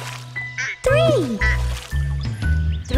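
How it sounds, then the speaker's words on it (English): A cartoon mother duck quacks in a children's nursery song, several bright quacks sounding over sung vocals and instrumental accompaniment. "Mommy duck said quack, quack, quack, quack."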